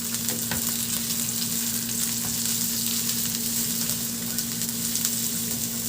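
Constant close sizzle of garlic and onion frying in a pan for a chicken dish, with occasional scraping stirs and a steady low hum underneath, loud and unbroken, with no talking.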